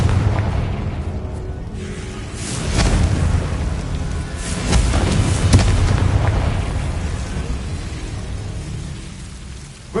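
The Confringo explosive spell in Hogwarts Legacy goes off as a loud, rumbling blast that swells twice and lingers with a crackling, debris-like tail, with no voices over it.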